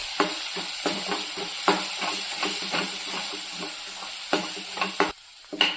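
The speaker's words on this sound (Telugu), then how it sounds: "కారం కూడా మంచిగా ఫ్రై అయిందండి" Chili powder and green chillies fry in a pan for gonguura meal maker curry, a steady close sizzle broken by repeated scraping stir strokes, with a brief pause near the end before the hiss returns.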